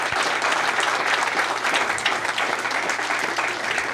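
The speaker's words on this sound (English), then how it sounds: "if you wouldn't mind joining me in a round of applause" Audience giving a round of applause for panelists after a panel discussion, loud dense clapping that stays even for several seconds with no talk.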